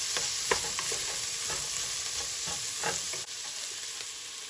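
Garlic sizzles in a hot pan for a quick chili while a spoon stirs it, giving steady close frying hiss with irregular scraping strokes throughout.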